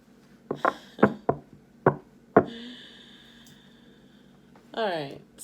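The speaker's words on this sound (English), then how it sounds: "I'm slamming the cards. I know it's loud." Tarot cards slammed down on a surface make six sharp, close thuds in an irregular series, then a person talks briefly.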